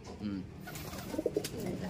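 Racing pigeons cooing softly nearby in an aviary, a few low throaty coos over a murmuring background with faint voices.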